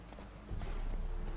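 Roach the horse in The Witcher 3 trots up after being called, with hooves clip-clopping close and steady over low game ambience.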